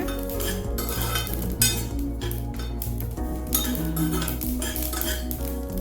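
Spices for mango pickle are stirred as they dry-roast in a pan, with a steady run of scraping and light clinks from a spoon against the metal over a low, constant hum.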